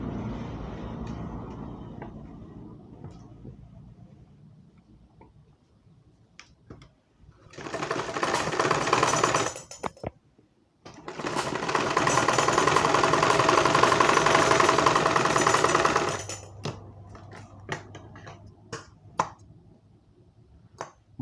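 Sewing machine stitching a blouse: two loud close bursts of rapid needle rattling, the second longer, separated by a short pause, with quiet handling noise before and after.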